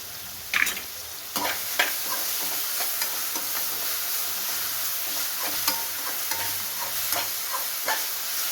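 Chicken for chicken sukka fries with salt and ginger garlic paste, hissing and sizzling steadily while a spoon stirs it in scattered close scrapes and knocks, with no talking.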